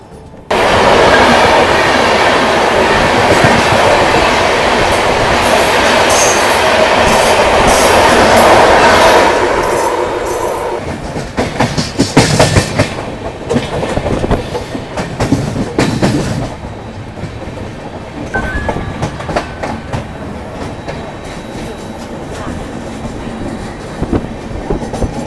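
A double-decker express train runs near Surat as the Mumbai Ahmedabad Shatabdi Express crosses it. A loud, close roar gives way to rapid clattering bursts of passing carriages, then a lower rolling rumble with wheel clicks.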